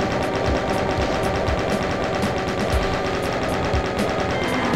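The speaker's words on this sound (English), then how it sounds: "Oh wait, gun battle, right." Dense, continuous gunfire from the Doom video game, a loud, steady rattle of rapid shots with no pauses and no voices, set in a battle against final bosses.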